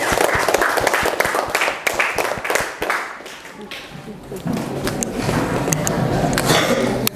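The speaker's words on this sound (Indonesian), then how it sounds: "Kalau begitu kita berikan aplaus dulu buat kelompok 2." A classroom group claps for the second presenting team, brisk scattered applause loud at first, thinning midway and then picking up again, with voices talking underneath.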